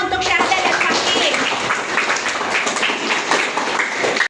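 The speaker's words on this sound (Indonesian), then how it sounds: "Tepuk tangan teman-teman untuk Syahda dan Fakih." An audience breaks into a few seconds of dense, sustained applause, claps blending into a steady wash with a few voices audible among them.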